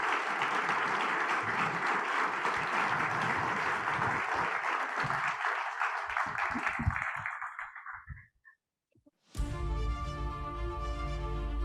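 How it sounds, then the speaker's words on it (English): An audience gives a sustained round of applause, dense clapping for about eight seconds that tapers off, then a brief silence before music starts. "Really a round of applause"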